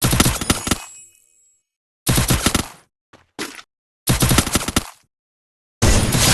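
Sniper-mode gunfire in the Free Fire battle royale game: four loud, sharp bursts of shots separated by short silences, each ringing off briefly.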